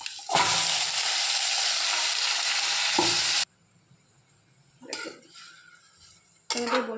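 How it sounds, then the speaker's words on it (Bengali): Mutton hits a pan of hot oil with dried chilli, bay leaf and cumin, bursting into a loud, dense sizzle for a few seconds, then quieter clinks and another sharp burst of frying. "এবার মাংসটা দিয়ে দেবো।"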